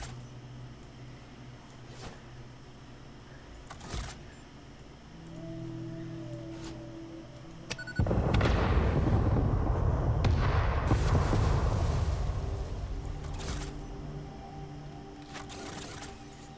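Cluster bombs blow up gas plants in the factory-building game Satisfactory, a loud, dense burst of overlapping explosions that swells suddenly and rumbles on for several seconds before fading into game ambience.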